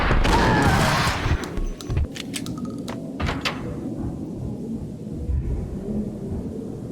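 Gunfire in the action video game Max Payne: a loud blast up front, then a cluster of sharp shots and thuds over a low rumbling backdrop that settles into quieter ambience.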